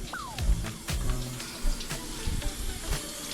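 Potatoes being scrubbed by hand under a running kitchen tap, with a steady stream of water splashing and a few knocks and clatters in the sink.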